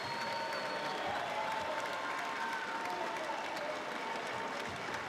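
A basketball crowd at a UIW vs ACU game in Abilene applauds a senior player with sustained, even clapping that fills the arena from start to finish.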